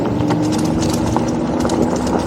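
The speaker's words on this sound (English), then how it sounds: "what do you call that, steering column? That's what's rattling." Steering column of a fat-wheel electric scooter rattles constantly over rough ground, a loose, rapid clattering close by with a steady low motor and road rumble beneath.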